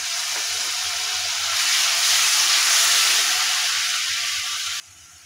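Garlic paste hits a hot pan with turmeric for a cauliflower, cabbage and potato vegetable fry, giving a loud, steady close sizzle that swells midway and then cuts off abruptly near the end, with no talking.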